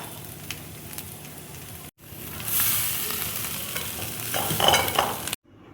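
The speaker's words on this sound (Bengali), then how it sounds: "আলুটা দেখো ভাজা হয়ে গেছে, এবার আমি তুলে নেব" Fried potatoes for a Bengali aloo dum are stirred and lifted from a pan of hot oil, giving a steady close sizzle and frying crackle with scraping stirs that swell toward the end before cutting off.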